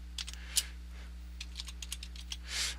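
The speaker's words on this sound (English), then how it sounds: "I'm going to type the word energy" Quick bursts of keystrokes on a computer keyboard as a short word is typed, a handful of close, crisp clicks with a slightly louder key near the end, over a steady low electrical hum.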